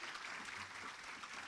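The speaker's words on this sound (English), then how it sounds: "so give them a round of applause." Breakfast audience at a women's empowerment event applauds in a dense, continuous burst of clapping, fairly far off and steady for the whole moment.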